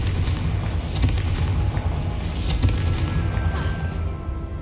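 Confringo, the fiery explosive spell in the video game Hogwarts Legacy, goes off in a few sharp booming blasts over a steady, dense rumble of game sound and background music.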